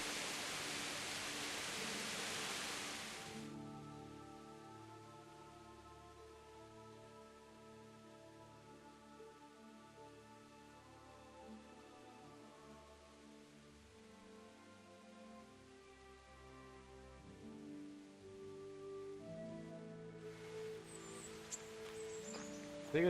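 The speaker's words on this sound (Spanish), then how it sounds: "Sigue lloviendo." Rain falls in the medieval game Kingdom Come: Deliverance as a soft, steady hiss that fades out to calm game music and returns near the end.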